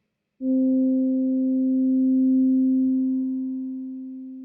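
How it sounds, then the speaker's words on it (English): A steady, pure electronic tone starts abruptly and holds at one pitch for about four seconds, fairly loud and smooth with no other sounds. "now we're starting to sound like a sine wave"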